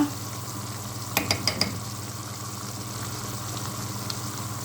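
Injera firfir frying steadily in a pan with a constant hiss, broken by a few quick scraping stir strokes.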